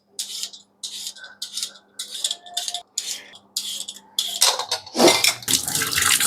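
Peeled potatoes are rinsed under a running tap, with bursts of splashing water starting and stopping, then a louder, steadier gush toward the end, close and clear.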